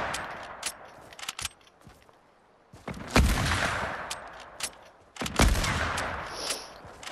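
Video game sniper gunfire: a few sharp, separated shots with broadband cracks and brief low thumps, fairly loud against quieter game ambience.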